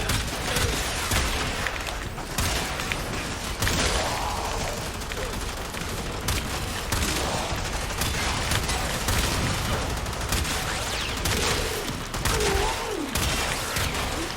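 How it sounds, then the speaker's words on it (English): Video game gunfire crackles in dense, continuous volleys amid busy in-game action, loud and sustained throughout with little pause. "then just find whoever Taxon's shooting and shoot him"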